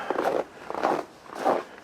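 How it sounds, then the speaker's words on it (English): Footsteps crunching through cold snow outdoors at about minus 13 degrees, three distinct crunching steps in a slow, even rhythm, fairly close and moderately loud with no talking. "we'll listen to that crunchy snow"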